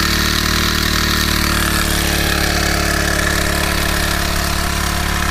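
A small, lightweight 4-stroke pesticide sprayer engine runs at a steady, loud drone, building pressure at the spray gun. It sounds close and continuous throughout, with no talking.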